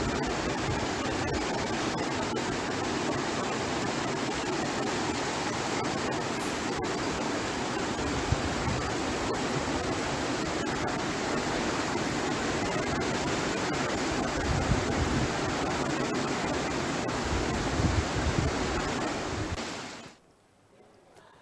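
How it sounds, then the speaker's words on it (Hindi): Swollen Alaknanda and Mandakini rivers rush after heavy rain at Rudraprayag in Uttarakhand, a loud, steady roar of churning floodwater that holds unbroken for about twenty seconds before cutting away abruptly. "बारिश के चलते अलकनंदा और मंदाकिनी दोनों नदियां उफान पर बह रही हैं"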